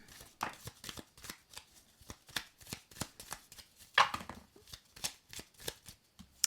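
A deck of Kuan Yin oracle cards being shuffled by hand, a run of soft, close riffling and slapping bursts in an uneven rhythm, otherwise quiet.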